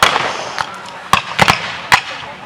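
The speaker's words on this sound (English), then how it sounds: "Now we've got some enfilading fire from the Confederate artillery and cavalry fire on the north." Civil War reenactment gunfire, with Confederate artillery and cavalry firing, heard as a handful of sharp, fairly close cracks spaced irregularly over a faint crackle of distant shots.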